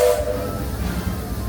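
The Disneyland Railroad steam train rolls along its rails near New Orleans Square Station, giving a steady low rumble and clatter with a brief whistle-like tone at the start.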